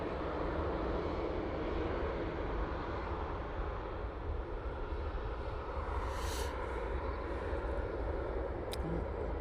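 A KLM airliner comes in at Manchester Airport, a faint, steady distant engine rumble with a couple of brief hissing bursts near the end.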